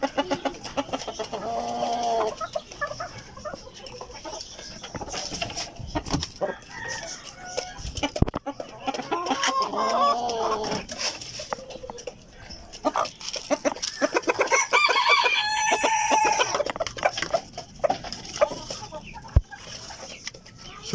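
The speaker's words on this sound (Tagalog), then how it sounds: "So ganyan po sila kalakas kumain pag nagbibigay ako ng pagkain sa kanila" Backyard chickens and roosters cluck busily and crow at feeding time, a lively mix of overlapping calls and loud crows near and far, with pecking and scattered knocks between them.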